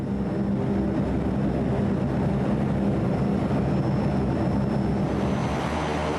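A Curtiss-Wright XC-142 tilt-wing VTOL experimental aircraft in flight gives off a loud, steady propeller and turboshaft drone that holds at the same level throughout, with no voices.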